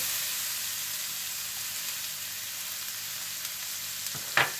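Onions hitting hot melted butter in a pan produce a steady, close, even sizzle and hiss, ending with a brief utensil knock.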